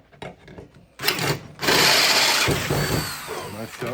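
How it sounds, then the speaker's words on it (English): A sharp drill bit bores through wood while building a fairground high striker, starting with scattered handling knocks and then a loud, continuous grinding whir that holds close up to the end. "we're going to drill through this"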